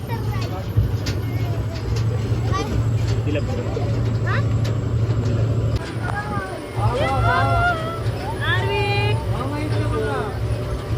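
A tractor carrying passengers climbs uphill on the way to a temple, its steady low engine drone running throughout with a brief dip partway, while people chatter and call out over it.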